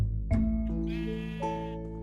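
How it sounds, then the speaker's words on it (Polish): A sheep in the Minecraft video game gives a single wavering bleat, clear and close, with no talk over it. "Owcia."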